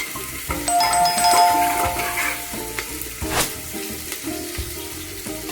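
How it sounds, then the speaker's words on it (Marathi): Chopped onions sizzle steadily in a hot pan as the cook sautés them for green pea rice, with stirring scrapes and a brief bright metallic ring near the start; no voices. "सर्व कांदा घातलेला आहे बघा मैत्रिणींनी आता चांगला परतून घेऊया"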